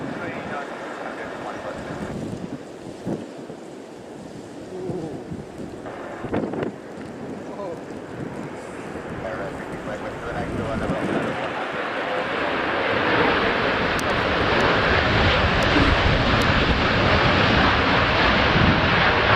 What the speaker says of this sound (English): This Boeing 737 deploying its reverse thrust too early before touching down